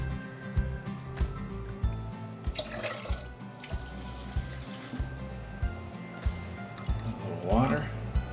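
Water runs steadily into a pot for pickling peppers, a continuous splashing fill heard up close, with a voice briefly speaking over it.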